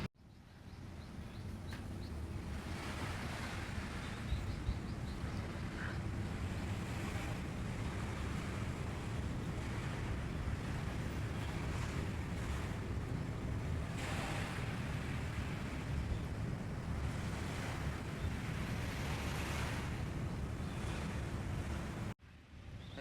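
Sea waves washing onto the shore in Okinawa, a steady continuous roar of surf with wind buffeting the microphone, no voices, ending abruptly.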